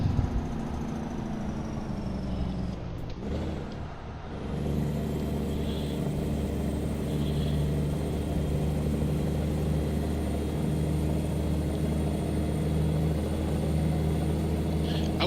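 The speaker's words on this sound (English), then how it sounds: "I like the way the truck sounds." Steady hum of a truck engine in American Truck Simulator, idling and running continuously with a brief dip near the start, then holding a level drone close by with no talk over it.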